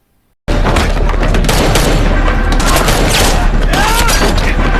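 After a moment of silence, loud bursts of film gunfire erupt in a rapid volley inside a room, continuing densely with booming echoes.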